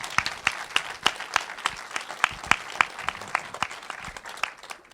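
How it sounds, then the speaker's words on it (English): Audience applause for tour sponsors, a small crowd clapping with distinct, irregular sharp claps that gradually thin out and fade by the end. "I want to give them a round of applause"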